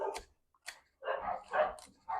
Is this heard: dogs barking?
yes